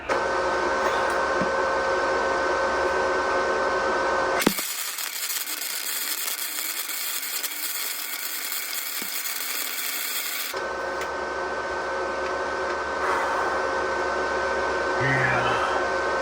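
Welding on a 1961 Mercury Comet's frame rail as a Mustang II crossmember is fitted, a steady crackling buzz running about six seconds in one unbroken bead, close and loud amid shop noise, then cutting off abruptly.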